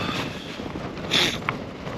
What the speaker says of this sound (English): As you can see, it's still windy.